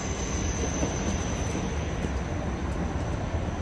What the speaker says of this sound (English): I just missed 2 trains at the same time crossing this little bridge.